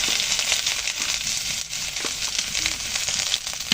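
Turmeric and garlic paste hit hot oil in a pan and sizzle steadily and loudly, a dense crackling hiss with small pops, with no talking.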